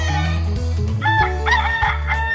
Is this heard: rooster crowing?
yes